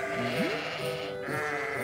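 A voice imitates a sheep bleating, one drawn-out wavering baa, close and clear over a steady background hum.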